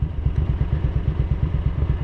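A Ducati 900SS bevel-drive motorcycle engine runs close by with a loud, rapid, even low-pitched thumping pulse, holding steady without a clear rise in revs.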